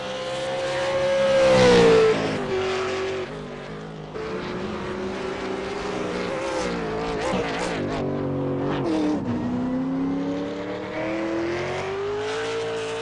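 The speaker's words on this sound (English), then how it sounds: "Really short shift out of that hairpin there to get the throttle down." A V8 Supercar racing engine accelerating around the Barber Motorsports Park circuit, its loud steady roar rising and falling with shifts as it exits a hairpin, continuous and close throughout.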